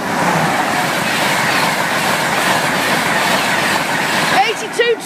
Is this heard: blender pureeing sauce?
no